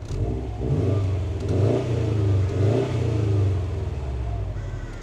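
A 2012 Subaru Impreza WRX STI A-Line engine revs repeatedly through its stock exhaust, rising and falling in several swells of deep, rumbling roar, close and loud.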